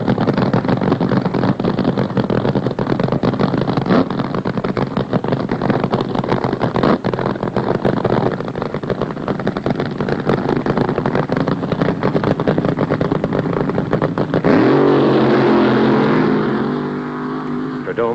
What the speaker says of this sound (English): The burnout. That's what the crowd loves. Noise and tire smoke and the fire from the engine exhaust.